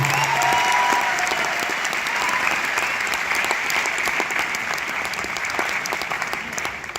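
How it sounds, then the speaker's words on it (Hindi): An audience at a 19th anniversary company event claps steadily and loudly for the whole stretch, a dense continuous wash of applause. "एक बार जोरदार तालियां जनार्दन के लिए और सारे ग्लोबल डायमंड्स के लिए दोस्तों"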